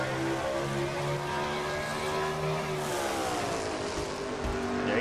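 A race truck engine in a racing video game at Martinsville, roaring loud and continuous with a sustained high whine that drops and climbs as it shifts through the corner, heard on board.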